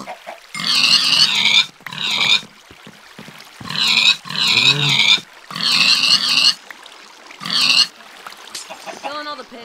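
Pigs in the Minecraft video game give repeated loud oinking grunts in short bursts, about seven separate calls with brief pauses between them, close and clear.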